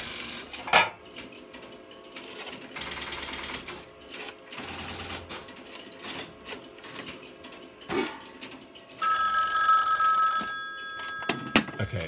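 Old electromechanical telephone exchange equipment setting up a dialed call: clattering relays, stepping switches and buzzing selectors, with a burst of ringing-like tone near the end, close and mechanical.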